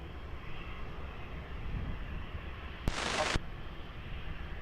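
A plane takes off at Lisbon Airport on runway 20: a faint, distant, steady jet rumble with a broad roar that stays even throughout, and a brief sharper noise burst near the end.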